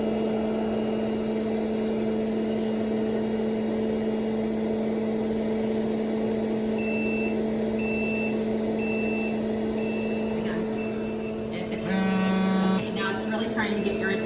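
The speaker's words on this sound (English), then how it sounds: "if anything happens to the unit while you have it on, it's going to alarm so that we know that there's a problem" An operating-room surgical protective unit alarms during a palm occlusion test, giving a series of evenly spaced electronic beeps over a steady mechanical hum, followed by a brief louder burst near the end.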